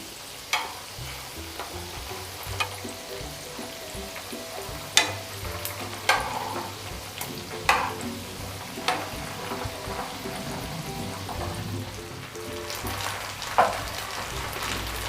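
Bread and poha snacks fry in hot oil with a steady close sizzle, punctuated by sharp clinks and scrapes of a utensil turning them in the pan at irregular intervals.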